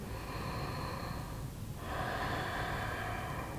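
Slow, deep breathing during a yoga session: a long drawn breath, a short pause near the middle, then another sustained breath, close and steady with no talking.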